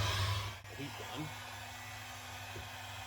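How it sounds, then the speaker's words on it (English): A heat gun runs steadily, its airflow hiss and low hum filling the space, with a few faint knocks and handling sounds over the top. "you're better off using a heat gun"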